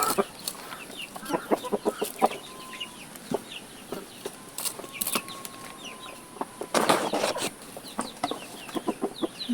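A rooster clucks in short repeated bursts, close by, while chickens are fed coconut worms, with wing flaps and rustling scattered between, plus occasional loud thumps.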